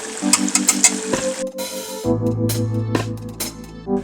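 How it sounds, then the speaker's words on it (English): Ground beef and fish frying together in a pan for tacos, a steady close sizzle with occasional spatter and clinks of utensils over background music, no talk. "So while our beef and fish is cooking away"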